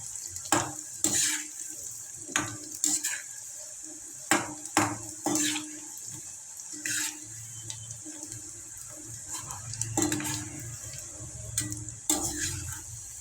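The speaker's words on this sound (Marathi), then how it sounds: "सतत त्यांना हलवत राहायचंय. फ्राय करून खूपच छान लागतात." Soya chunks fry in oil in a pan, giving a moderate sizzle under repeated clinks and scrapes as a utensil stirs them at irregular intervals, heard close with no talking.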